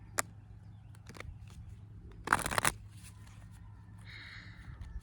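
A short riffle of oracle cards being shuffled, a brief burst in the middle of an otherwise quiet room, with a few light taps and handling clicks around it.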